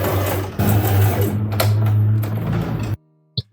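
A sewing machine stitches a seam on a muslin kaftan dress, running in a loud, steady whir for about three seconds before stopping, followed by a brief click.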